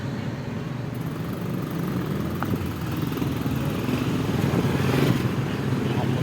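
A motorcycle engine drones nearby, growing slightly louder as it passes, with faint voices in the background.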